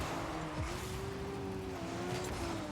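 Car engine and tire noise from the Rocket League video game, a steady mid-level hum with a sliding whine of a car driving, no talk over it.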